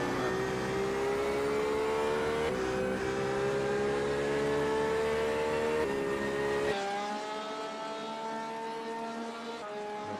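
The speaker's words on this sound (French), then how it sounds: "M. Ferron sur la piste. Sa Porsche 911 RSR" A Porsche 911 RSR race car in a GTE racing video game lets out a loud, continuous engine whine that climbs in pitch, drops sharply at gear changes and settles lower near the end.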